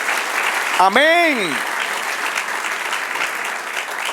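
A church congregation applauds throughout a sermon in a dense, steady wash of clapping, while a single voice rings out briefly over it.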